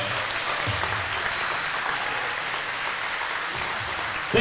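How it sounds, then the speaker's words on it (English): Crowd applause in a high school gym at Sacred Heart Academy's senior night basketball game honors a player, a steady wash of clapping and cheering throughout the short span. "Ladies and gentlemen, please give a round of applause to number 3"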